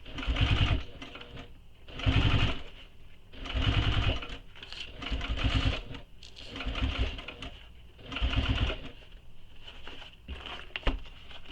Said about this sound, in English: So I'm just stitching it down